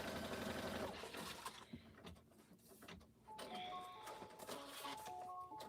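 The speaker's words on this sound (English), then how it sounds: "So now it's stitching my underside pocket on." An embroidery machine stitches the underside of a pocket, giving a busy mechanical whir that pauses briefly and resumes, with a few short electronic beeps toward the end.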